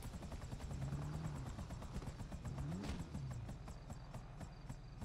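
Helicopter rotor in the GTA 5 video game, a steady, fast chopping whir that runs continuously at moderate distance, with a faint rising whine swelling briefly in the middle.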